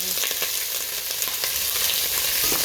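Meat hits a hot pan with burnt onions and sizzles and fries steadily, a loud continuous crackle with faint stirring clicks, close up and with no talking.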